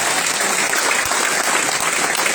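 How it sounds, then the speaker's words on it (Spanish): Church congregation applauding during a sermon, a brief, dense burst of many hands clapping, steady and fairly loud throughout. "¿Cuántos le dan un aplauso al Señor en esta hora?"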